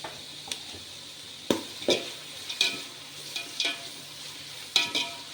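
About ten green chillies and onions frying in a pan for drumstick biryani, a soft steady sizzle punctuated by repeated scraping stirs and light clinks of a spoon against the pot.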